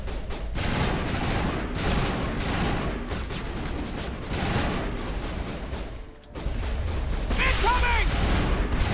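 Sustained gunfire in the sci-fi shooter Mass Effect, dense rapid volleys and booms filling the whole stretch, loud and close, with a brief lull before firing resumes alongside game voices.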